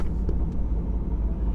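A fully warmed-up Nismo 350Z engine idles with a deep, steady low rumble, close and even, with a faint uneven throb and no talking.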